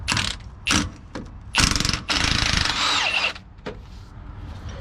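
A ratchet works on the sway bar bolts of a Nissan Xterra during a differential replacement, giving bursts of close, loud clicking separated by short pauses, followed by quieter single clicks.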